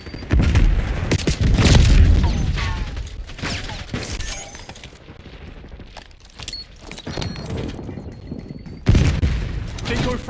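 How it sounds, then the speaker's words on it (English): A Semtex grenade explosion in Call of Duty: Black Ops 6 during a Hardpoint match, a loud blast and heavy gunfire bursts at the start, then quieter shooting and another sharp burst near the end, with brief game announcer voices. "Tossing Semtex."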